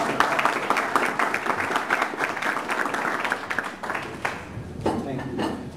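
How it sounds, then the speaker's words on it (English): An audience breaks into applause, lively clapping that thins out toward the end as a few scattered claps linger. "So let's give Marty Smith a big round of applause."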